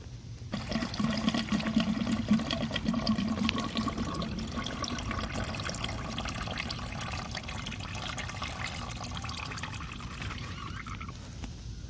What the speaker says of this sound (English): we're gonna unscrew the hose at the bottom here and drain out the old antifreeze that's inside of the bike